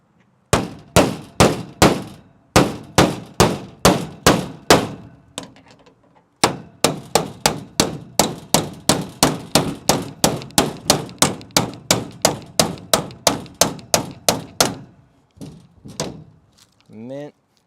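A hammer strikes a beater flathead screwdriver to punch through metal during a mining trailer build, with a series of loud, sharp metallic clangs in quick, regular bursts, a brief pause midway, then more rapid blows.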